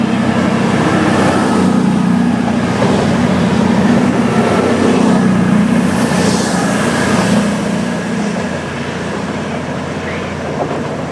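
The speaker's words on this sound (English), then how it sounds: "this is our next train after an impromptu, unexpected change here at Northallerton" A train at Northallerton station on a service to Middlesbrough, loud continuous rumbling of rolling stock with a low engine drone and squealing wheels, easing slightly toward the end, without speech.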